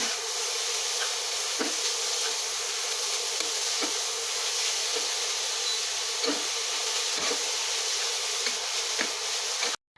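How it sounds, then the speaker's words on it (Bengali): Grated carrots frying in oil in a kadai with bay leaf and cinnamon, a steady loud sizzle with soft intermittent stirring knocks, no talk. "এবার তেলের মধ্যে গ্রেট করে রাখা গাজরগুলো দিয়ে নাড়াচাড়া করে কিছুক্ষণ ভেজে নেব"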